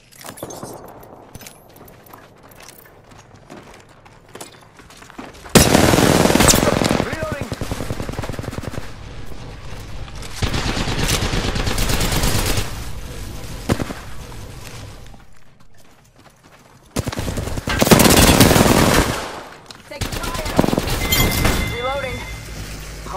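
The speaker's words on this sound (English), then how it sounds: "They're shooting at me?" Sustained automatic weapon fire in Apex Legends comes in loud bursts separated by quieter stretches, with a player talking over the action.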